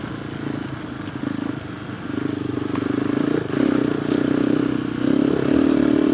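A KTM 390 Adventure R fitted with a Norifumi Whoops exhaust rumbling on a group ride, its engine note rising in repeated surges of throttle over steady road and wind noise.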